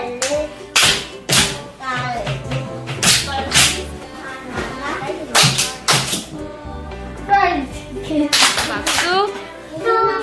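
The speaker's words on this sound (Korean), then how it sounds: "도미노 박수였습니다." Children in a classroom play a domino clapping game, sharp claps passing along in bursts and uneven runs, loud and close, with children's voices and chatter mixed between the claps.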